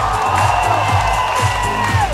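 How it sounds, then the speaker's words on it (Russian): An arena crowd at a dance marathon event in Luzhniki, Moscow, cheering and whooping loudly and continuously, with some clapping and shouting blended into a dense roar. "ваши бурные аплодисменты!"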